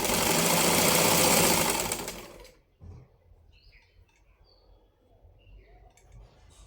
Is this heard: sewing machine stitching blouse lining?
yes